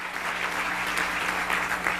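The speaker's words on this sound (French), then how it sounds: "Applaudissez-les s'il vous plaît." Steady applause from an audience at a motivational talk by John Assaraf, a dense even patter of clapping that holds at one level throughout.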